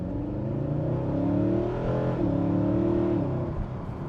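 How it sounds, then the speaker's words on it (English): A Mercedes SLS AMG's naturally aspirated V8 revs loud and close, its deep harmonic roar rising and dipping through several throttle swells, with a brief shift around the middle before climbing again. "This is the last of the normally aspirated V8s from Mercedes, and they sound oh so good."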